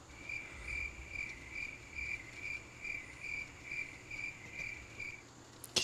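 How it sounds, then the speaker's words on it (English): Crickets chirping outdoors at night, a steady rhythmic high trill repeating about every third of a second, faint and in the background over low ambient rumble. "they can hear the crickets in the back. Actual crickets."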